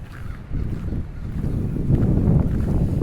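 Wind gusting through a public garden in Halifax, a loud continuous rumble buffeting the microphone up close, swelling slightly toward the end, with no voices.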